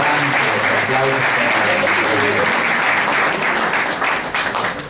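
A church congregation bursts into loud, sustained applause, many hands clapping densely and close, with a voice and some crowd sound underneath early on.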